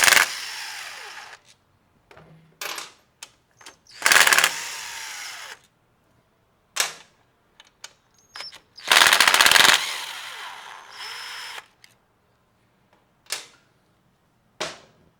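Rapid rattling bursts from a power tool zipping bolts off the oil pump of a 2022+ Honda Grom, several short loud runs separated by silences.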